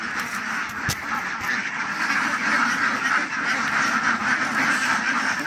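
A large flock of ducks on a duck farm quacking continuously, a dense, loud chorus of overlapping calls close by.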